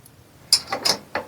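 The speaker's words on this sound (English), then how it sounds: "Alright, move the tipper out of the way" Tipper of a Brunswick GSX bowling pinsetter being shifted aside, a few short metallic clanks and clicks in quick succession, close and fairly crisp, with no talk.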